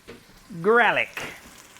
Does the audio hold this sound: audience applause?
no